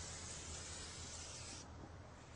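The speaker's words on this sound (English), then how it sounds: "using a brake parts cleaning solvent such as this, just wash the caliper and remove all of that dust" Brake parts cleaner solvent sprays from an aerosol can onto a brake caliper, a continuous close hiss that holds for about a second and a half and then thins to a softer wash.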